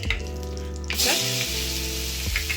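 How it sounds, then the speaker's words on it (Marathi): Asafoetida, turmeric and crushed garlic-chili paste hit hot oil in a pan for vada pav, a close, bright sizzle that flares up loudly about a second in and then settles into steady frying with faint clinks. "तेल एकदम चांगलं तापवून घेऊन आपण पटापट सगळे पदार्थ टाकले।"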